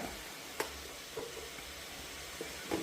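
Sliced onions with turmeric sizzle softly in hot oil for a chicken curry, a steady faint hiss broken by a few light stirring taps and scrapes, with no one speaking.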